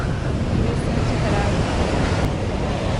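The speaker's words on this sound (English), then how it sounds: "Look at the clouds. Yeah, getting windy, actually." Strong wind buffeting outdoors, a loud continuous roar of broadband noise with no pauses, like gusts sweeping across an open shore.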